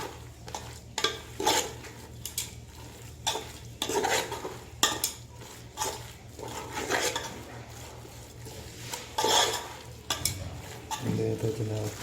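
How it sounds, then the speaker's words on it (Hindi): Pakora batter being stirred and mixed by hand in a bowl for khari pakora, with repeated scraping and clattering strokes in an uneven rhythm, fairly close and moderately loud throughout, with a low steady hum beneath. "इसको अच्छी तरह से मिक्स कर लेते हैं।"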